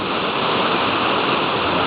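River water rushes steadily over rocks on the Kampar River at Gopeng, Perak: a loud, continuous broadband roar with no pauses and no voices.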